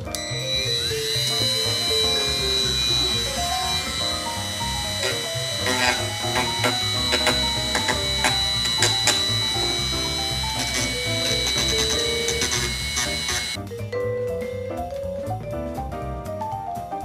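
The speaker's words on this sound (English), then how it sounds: "Now I'm going to use the sanding drum and just hit a couple of the edges." A sanding drum on a rotary tool buffs the edges of a Batman Arkham grapple gun prop, giving a continuous high-pitched motor whine with a shifting tone as it bites the surface, then cuts off near the end.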